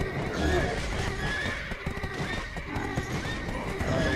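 A horse whinnies over rhythmic clip-clopping hooves in Black Desert Online, a dense, continuous spread of game sound with no clear pauses.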